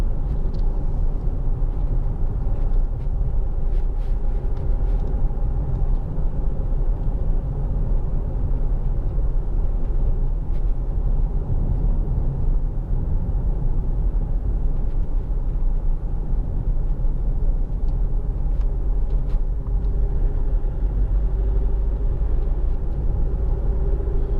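Land Rover Freelander 2 2.2 Td4 SE diesel driving over a ridged, bumpy road, a steady low cabin rumble of engine and road noise with scattered thumps and knocks from the suspension, no talking.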